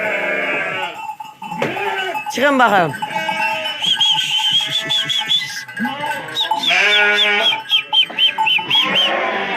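Sheep and lambs bleat repeatedly nearby on a breeding farm in Amasya, Turkey, with a person talking in Turkish over the animal calls.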